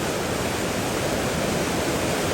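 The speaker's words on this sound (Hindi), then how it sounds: "सतलुज का पानी ना कितनी शांति से आ रहा है" Sutlej river water flowing steadily where a mountain stream joins it, a dense, continuous broadband rush at close range with no talk over it.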